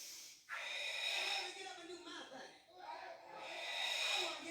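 A long, audible breath drawn in during a Pilates exercise, airy and close, swelling after a short gap and then continuing in a second slow inhale, with no voices over it.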